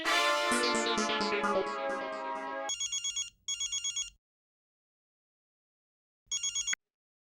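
A telephone rings with a bright electronic ringtone, first as a loud sustained musical burst, then in short pulsed chirping rings separated by a silent pause before one final ring.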